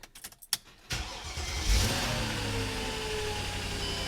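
A Mercedes CLK 500 with a coolant leak starts with a brief cranking burst, then the engine fires and settles into a steady, close idle with a low rumble and no talk.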